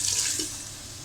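Water pours steadily with a soft hissing splash into a cooking pot of keema karela with yogurt, fairly close, fading slightly toward the end.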